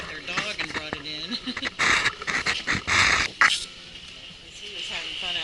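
A dog pants and whimpers close by at a campsite in Pomona State Park, Kansas, quick breathy bursts mixed with whines, with people talking in the background.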